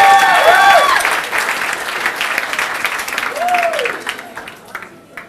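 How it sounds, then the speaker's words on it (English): Audience applause at an MA graduation ceremony at the Institute of Social Studies in The Hague, dense clapping that starts loud and gradually thins out, with a few tonal whistles or cheers rising over it. "So maybe an applause."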